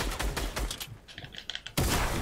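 Rapid bursts of video game gunfire crackle back and forth, a few scattered shots in between, then a heavy loud volley at the end.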